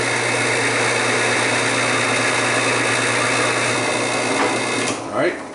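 A drill turning a standard jobber bit bores steadily into a bottle stopper blank, giving a loud continuous whirring drone that holds even, then dips and wavers near the end as the bit slows.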